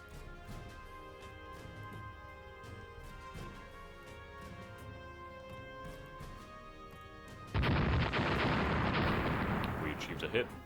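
Naval cruiser gunfire in the warship strategy game Rule the Waves: a low rumbling battle bed gives way to a sudden, loud, sustained roar of heavy gun salvos near the end.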